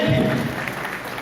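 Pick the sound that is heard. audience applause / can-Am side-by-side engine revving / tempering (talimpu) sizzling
audience applause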